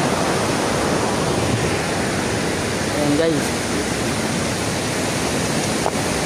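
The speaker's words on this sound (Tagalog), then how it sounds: "medyo malakas pa yung tubig ngayon guys" Strong water rushing over Wawa Dam, a loud continuous roar filling the scene, with a person briefly speaking over it.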